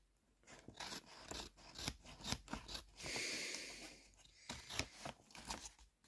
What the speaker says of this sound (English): we can then trim the paper off